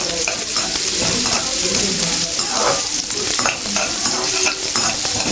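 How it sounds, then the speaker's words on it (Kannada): Cashews and raisins sizzle steadily in a hot pan, with spoon-stirring scrapes running throughout. The frying is loud and close. "ಗೋಡಂಬಿ ಸ್ವಲ್ಪ ಬ್ರೌನ್ ಕಲರ್ ಬಂದಮೇಲೆ ದ್ರಾಕ್ಷಿ ಹಾಕ್ಬೇಕು."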